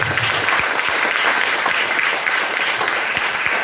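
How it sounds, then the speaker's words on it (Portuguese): A church congregation claps steadily during an evening service, dense and close with some individual claps standing out, sustained throughout with no speech. "Agora eu quero que você dê uma salva de palmas para o Senhor Jesus."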